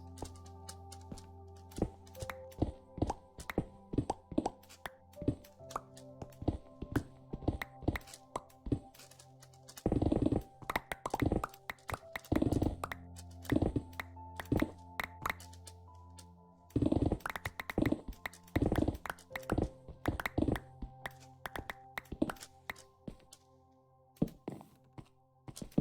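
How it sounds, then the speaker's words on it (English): Solid, dull critical-hit thumps from a video game, struck in irregular bursts and clusters over a steady humming musical background, some hits loud and close together, others spaced apart; no one speaks. "the crit noise is a solid thumping noise"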